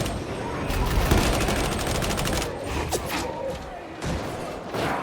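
Sustained suppressing fire in Darktide, a Skitarii build, aimed at enemy gunners. Dense, rapid shots run loud throughout, under a noisy mix of battle sounds, with a brief lull before a final burst.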